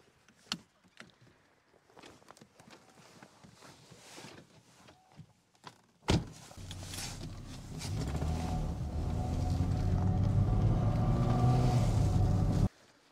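An Audi A6 C5 2.8 Quattro with its ride height raised to 28 cm, ready for muddy off-road driving: scattered clicks and knocks, then a sharp door thud, followed by a steady engine drone that holds loud for several seconds before cutting off.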